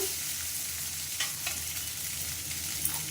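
Chow mein tossed and stirred with carrots in a hot pan, a steady close sizzle with light scraping of the utensil throughout and no voices.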